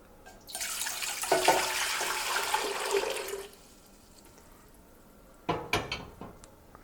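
Water gushes steadily into a metal pot for a few seconds while making nectarine wine, then stops, followed by a few clinks of cookware.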